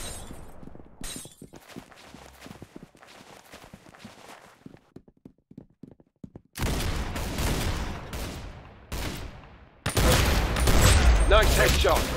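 Gunfire in the Roblox game Arsenal, with sparse light shots at first, then dense, loud automatic bursts in the second half and bright crashing impacts.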